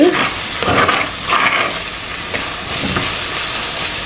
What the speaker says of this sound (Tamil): ஸோ இன்னொரு ஒன்றரை நிமிஷம் வதங்க விடுவோம்